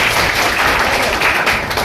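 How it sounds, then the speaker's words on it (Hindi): A classroom audience at a Patna coaching centre claps loudly together, a thick, steady burst of applause lasting under two seconds. "जोरदार ताली"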